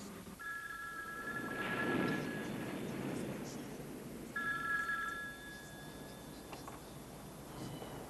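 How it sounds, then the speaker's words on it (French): A telephone bell rings in two short bursts a few seconds apart in a French thriller film scene, faint and distant beneath a low background hum and murmuring voices. "Madame! Téléphone!"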